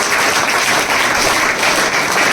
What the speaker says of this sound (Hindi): इसकी ईमानदारी के लिए भी ताली हो जाए।